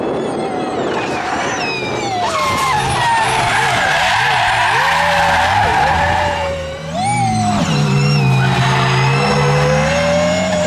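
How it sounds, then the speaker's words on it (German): An electric rally car plays artificial rally engine sound from a sound module, giving loud rising and falling revs with tire squeal and skidding as it drives hard, close by, with no talking. "Soundmodul, das für uns unseren Rallye Performance Sound generiert"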